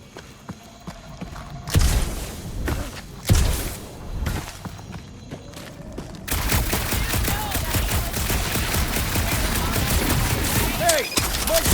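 Gunfire in the Marvel's Guardians of the Galaxy video game, with a few separate loud shots early on, then a dense, sustained burst of rapid fire with impacts and clatter, close and loud.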